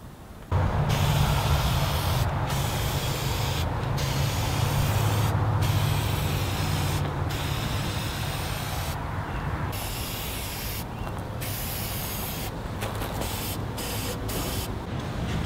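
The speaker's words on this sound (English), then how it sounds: "I'm going to spray a couple of coats of clear lacquer." Aerosol spray can applying clear lacquer coats to wind chime parts outdoors, a steady close hiss broken by several short pauses between passes.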